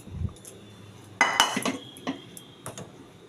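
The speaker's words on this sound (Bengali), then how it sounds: "দেখুন, আমি ডালটা ঢেলে দিলাম," Chickpea lentil dal (chana dal) poured into a metal pan, heard as a short burst of clattering and scraping around the middle, followed by a few lighter clinks of utensil against the pan.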